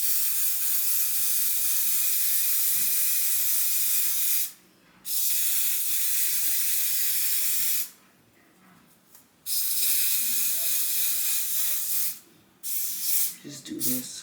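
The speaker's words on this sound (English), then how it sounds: "I'm gonna use this Eben spray, Wonder Spray" Ebin Wonder Spray misted onto a wig during an install, heard as long steady hissing bursts with short pauses between them and a few softer puffs toward the end.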